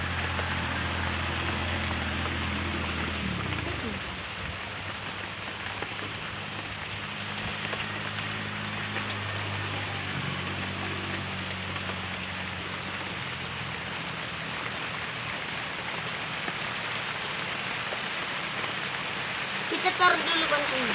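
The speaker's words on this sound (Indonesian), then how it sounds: "Kena air hujan." Steady rain pours down during a fishing trip, a dense hiss of drops hitting surfaces that continues throughout, with a low voice briefly audible near the start.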